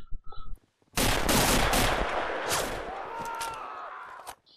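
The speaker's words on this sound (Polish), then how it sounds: "No, Ligba strzela" Dense automatic gunfire in the WWII shooter Red Orchestra: Ostfront, a loud sustained burst of rapid shots after brief quiet, tapering off with echoing tail.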